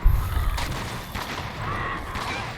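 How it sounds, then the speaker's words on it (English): Explosive weapon blasts in Monster Hunter World rumble and crackle loudly throughout, a dense, continuous barrage of booms and debris. "If you like explosions, this is the weapon for it."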